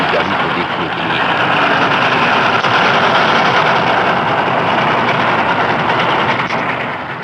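A train passing a village in the film Pather Panchali, a loud, sustained rumbling roar that swells and holds for several seconds before easing slightly, with no speech over it.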